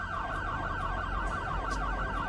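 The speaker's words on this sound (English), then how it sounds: "Hopefully, sound of sirens doesn't last for all eternity here." A wailing emergency siren in Cities: Skylines II sweeps up and down continuously, loud and steady, over a low rumbling background.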